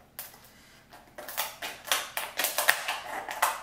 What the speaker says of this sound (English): Okay, let me cut this for us.